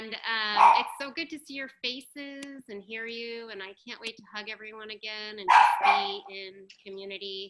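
A dog barks a couple of short bursts in the background while someone talks continuously over it.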